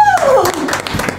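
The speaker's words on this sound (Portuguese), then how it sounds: "Palmas." A short burst of hands clapping, quick and close, mixed with cheerful voices and a whoop.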